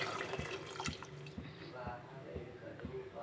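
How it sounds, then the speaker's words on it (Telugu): Water poured into a pot of khichdi with rice, vegetables and salt, a steady splashing pour with drip-like pulses, close by under a speaking voice. "దీంట్లో అయితే వాటర్ పోస్తున్నా."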